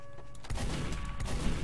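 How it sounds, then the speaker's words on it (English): Rocket explosions in the video game Team Fortress 2, a muffled blast followed by rumbling booms and crackling gunfire, close and dense. "Trying to use this rocket to jump back."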